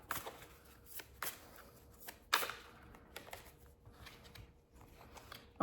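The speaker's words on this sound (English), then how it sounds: "I'm going to use the Muse Tarot to get a few more cards here." A Muse Tarot deck is shuffled by hand, giving soft papery riffles and sharp card snaps in several separate bursts, close and fairly quiet, with no speech.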